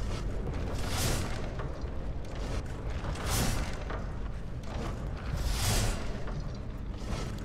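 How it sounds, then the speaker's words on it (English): Traps triggering in a dungeon in the video game Skyrim, with rumbling mechanical clanks and whooshing bursts that swell around one, three and a half, and six seconds over a steady dense background, loud and close. "There is movement, and that is the sound of traps."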